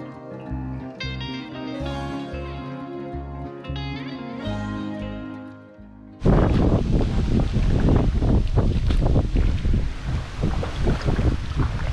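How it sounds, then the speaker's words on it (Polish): After some music fades out, strong sea wind buffets the microphone in loud, gusty rushes, rumbling continuously for the rest of the clip, on the Rega river near Mrzeżyno, Poland. "Już chyba wieje wiatr od morza"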